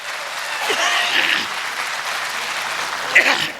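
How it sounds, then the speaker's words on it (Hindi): Crowd applause at a Hindi kavi sammelan poetry show, a sustained mass of clapping from a sizeable audience, swelling slightly in places and running steadily throughout. "तो एक बार जोरदार तालियां बजाइए"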